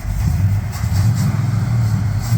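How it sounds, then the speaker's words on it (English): A 1953 Ford F100 truck engine idles roughly with a possible carburetor or fuel-line fault, a loud, close, low uneven rumble that wavers and stumbles throughout. "Doesn't want to idle on the transition on the idle circuit."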